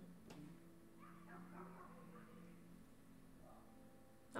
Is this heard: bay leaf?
no